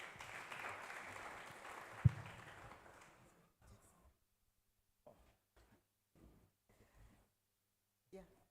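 Brief, thin applause from a conference audience fades out within a few seconds, followed by near silence broken only by faint scattered sounds and distant voices.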